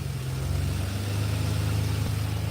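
A 1986 Chevrolet C10 pickup with a rebuilt 4.3 V6 TBI engine idles steadily and close by, a low, continuous drone whose pitch wavers slightly as the RPM floats.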